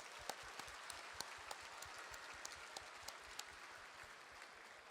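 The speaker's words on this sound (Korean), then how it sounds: "저는 인천 시민들이 박수 한번 치시죠." Applause from an audience at the opening ceremony of an Incheon education festival, a steady wash of many hands clapping throughout with a few sharper claps standing out.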